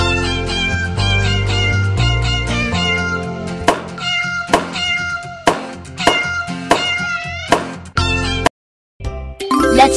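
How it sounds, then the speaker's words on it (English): Cartoon cat meowing in a kids' nursery puzzle game, repeated bright meows over chiming dings and jingly tones, loud and close, with a brief silent gap near the end. "Wow! This is a cat!"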